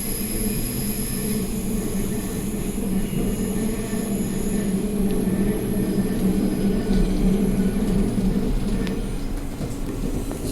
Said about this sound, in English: now big left turn with the train tilting straight into the station